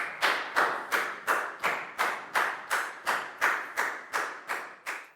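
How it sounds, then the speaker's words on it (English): A school class clapping for a Year 4 pupil, a steady rhythmic beat of about a dozen loud, evenly spaced claps in unison, each sharp hit followed by a short fade, with no talking. "a big round of applause for Net"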